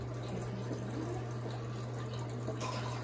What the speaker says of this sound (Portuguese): essa água aqui tem uma pressão boa, mas não é tão forte.